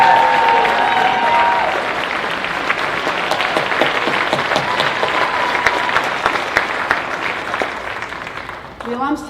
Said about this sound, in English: Big round of applause, Coach.